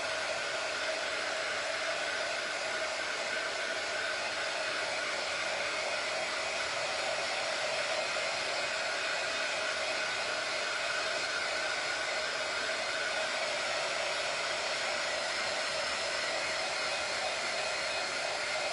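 A hair dryer blowing on paint to dry it: a steady, loud, continuous whirring hum that holds the same pitch and volume for nearly twenty seconds with no talking.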